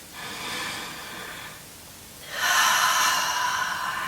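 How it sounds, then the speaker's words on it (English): Two deep, slow breaths drawn and pushed out, close and airy, the second exhale stronger and longer, as if emptying the lungs. "you breathe really deeply for 3 breaths"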